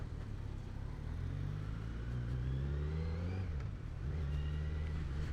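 2020 Kawasaki Z900 motorcycle pulling away in first gear on a road near Mumbai, the engine note climbing, dipping at a shift, then climbing again, heard from the rider's position amid wind.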